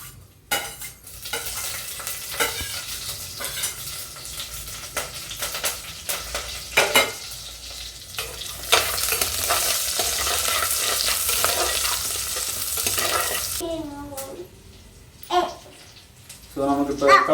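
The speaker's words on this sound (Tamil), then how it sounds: "இப்போ நான் வந்து பச்சை மிளகாவை ஆட் பண்ணிவிட்டு கருவேப்பிலை பச்சை மிளகாய் 2 ஆட் பண்ண போகிறேன்" Curry leaves and green chillies hit hot oil in a pan while quail gravy is cooked, giving a broad hissing sizzle that swells midway, with stirring clatter and brief bursts of speech.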